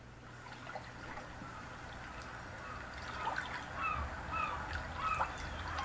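Seagull cries over a watery wash, sampled from a record's intro and played back on a Roland SPD-SX sampling pad. The faint, distant calls grow busier and louder toward the end.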